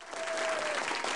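A studio audience at a quiz show applauds, a brief burst of dense, steady clapping with crowd noise and a faint tone running underneath.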